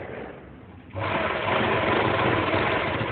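A sewing machine stitching the round seam of a Patiala salwar runs steadily after a brief quieter start, a close, continuous mechanical whir with no talk.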